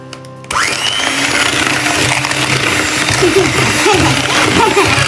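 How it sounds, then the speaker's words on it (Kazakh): A blender whirs steadily through waffle batter, loud and continuous from start to finish after a brief quiet lead-in, with a voice piping up faintly over the motor. "Блендерді аламыз."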